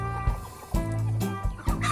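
Farm chickens, fed a mix including malt residue, cluck close and loud in repeated choppy bursts, several birds overlapping with no talk.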